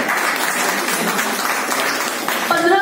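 An audience at a distributors' training session breaks into applause, a dense, steady wash of many hands clapping that carries through, with a voice rising over it near the end.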